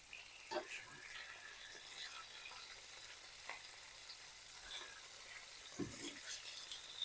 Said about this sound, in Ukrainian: М'ясо на одній стороні присмажилось. Ось до такого самого стану і на другу сторону присмажимо.